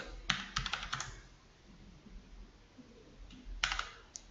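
An email and password are typed on a computer keyboard: a quick burst of key clicks, a quiet pause, then another short run of taps near the end, close and fairly soft.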